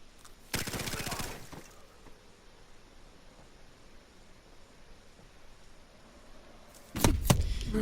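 Bursts of automatic gunfire from enemies shooting at the player in Call of Duty: Modern Warfare Remastered, a loud rapid volley near the start, then quieter background noise before another sharp burst at the end.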